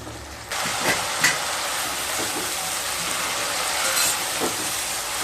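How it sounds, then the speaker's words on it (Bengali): Raw papaya and mung dal sautéing in a hot pan, a steady broadband sizzle with a few scraping stirs of a spatula, close and continuous throughout. "মুগ ডাল দিয়ে আবারও কষিয়ে নেব"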